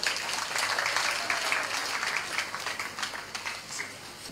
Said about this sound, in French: Je vais vous demander d'applaudir une fois de plus